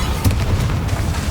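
A Bombarda blasting spell goes off in Hogwarts Legacy as one dense, loud, close rumbling boom that fills the whole brief moment.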